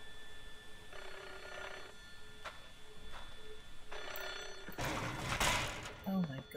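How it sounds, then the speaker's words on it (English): In a horror video game, a telephone rings in repeated evenly spaced bursts, fairly faint beneath other game noises, before a louder clatter of sound rises near the end. "Oh, this is the phone."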